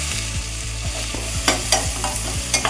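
Onions fry in oil left in a pan after egg fry, a close, dense, continuous sizzle with rhythmic stirring scrapes and a few sharper clinks near the end.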